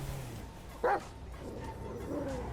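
A dog in the GTA 5 video game gives a single short bark or yip, with faint game ambience and a low murmur around it.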